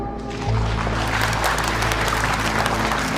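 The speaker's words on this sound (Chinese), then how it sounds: "让我们用热烈的掌声预祝今晚的拍卖圆满成功" Warm, sustained applause fills a charity auction night gala, a dense steady wash of many hands clapping from start to finish under a faint musical backing.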